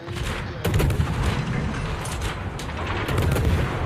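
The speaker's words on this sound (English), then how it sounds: "The sub is pinging you, the Yamato is shooting at you, and somebody over at A is shooting" Naval gunfire in World of Warships: dense, continuous booming and rumbling salvos from warships during a tier 10 battle near a mountain range, loud and sustained, with a few sharper bursts layered through.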